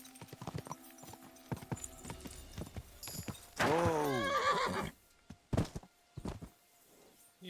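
Horse in Kingdom Come Deliverance 2 trots with steady clip-clopping hooves, then gives a loud, drawn-out whinny, with a man's brief exclamation and scattered speech around it.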